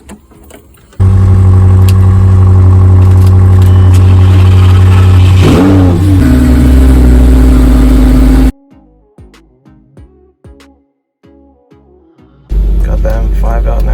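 A BMW M5 engine revs loudly and steadily as the car pulls out, rising in pitch midway, then drops off into quieter intermittent sounds before a loud engine roar returns near the end.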